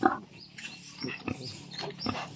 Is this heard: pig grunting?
yes